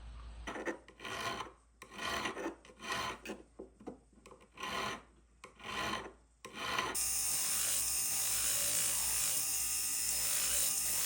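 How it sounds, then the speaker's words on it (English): A platinum ring being filed and sanded with rhythmic rasping strokes in bursts, then a steady, loud whirring grind from a power tool, close up and with no talk. "we're going to be doing the finishing work, which involves filing and sanding"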